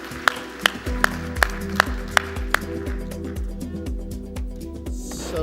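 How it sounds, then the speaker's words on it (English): A round of applause for the panelists at a global forum session, heard as a steady wash of many hands clapping with a few sharp, rhythmic claps standing out, filling the room without any talking. "please join me in thanking them with a round of applause for them"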